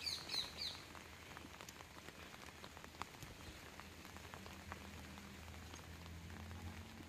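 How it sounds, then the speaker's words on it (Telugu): Rain falls outdoors over a garden where a vertical trellis is being woven. It makes a soft, steady patter throughout, with a few bird chirps near the start and no voices. "చూడండి వర్షం వస్తుంది"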